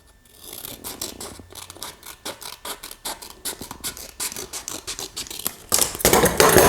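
Scissors snip a seashell shape from paper for a sea-themed vanity makeover, in a quick run of crisp, evenly spaced cuts close to the microphone that grow louder and denser toward the end.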